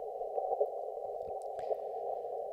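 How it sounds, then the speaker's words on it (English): Morse code tone received on amateur radio, a steady continuous beep held throughout with faint clicks and static behind it. "This is all Morse code down in this red area of the spectrum."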